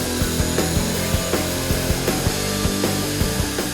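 A polishing wheel with compound buffs an aluminum exhaust heat shield for a custom bike, a dense steady grinding whir with rhythmic rubbing thumps repeating about every quarter second, close and loud.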